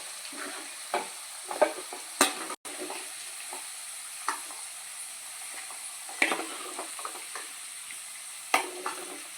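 Prawns frying in hot oil for prawn pickle give a steady, soft sizzling hiss with scattered sharp pops and crackles throughout.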